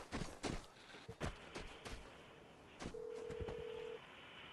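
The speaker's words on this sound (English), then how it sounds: "He just rang the phone in this little office." Ringing telephone in a small office inside a video game, a steady electronic tone lasting about a second, heard after several sharp clicks and impacts of gameplay.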